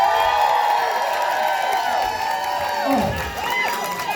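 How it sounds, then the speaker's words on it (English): A crowd cheers and whoops for the nominees at a Glasgow drag awards night, a loud, steady roar of voices with scattered shouts and clapping. "make a big cheer of applause for the nominees tonight"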